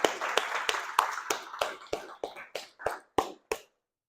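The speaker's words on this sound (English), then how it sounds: "Give yourselves a round of applause." Workshop attendees clap in a roomy space, about a dozen distinct, evenly spaced reverberant claps that thin out and stop, with no one speaking.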